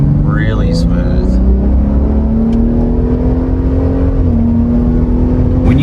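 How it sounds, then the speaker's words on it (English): A Ford F-150 3.5 EcoBoost truck with new spark plugs pulling smoothly under acceleration, a loud steady engine drone with rising tone heard from inside the cab, with talking over it. "This truck, ever since the spark plugs, pulls really smooth."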